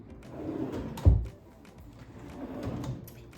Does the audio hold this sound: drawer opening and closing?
yes